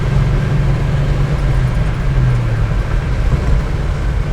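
A 1971 Oldsmobile Cutlass 442 W-30 engine pulling steadily at highway speed, a loud, constant low drone with a sustained hum that rises slightly midway, heard from inside the car with no talking.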